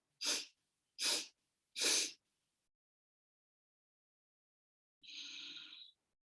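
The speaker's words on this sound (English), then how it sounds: "we take 3 breaths in, filling the lungs completely" Three short, sharp inhalations come in steady succession during a breathing exercise in an online class, then after a pause one longer, airy exhale, all close and with no talking.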